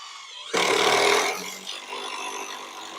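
After a short quiet start, an Osaka OCID821-D1 cordless impact driver whirs loudly as a three-inch screw is driven in, then the noise eases to a lower, steady buzz.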